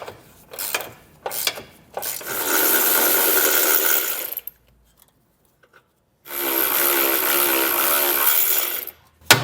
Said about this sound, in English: we're going to get those removed using an 18mm size socket.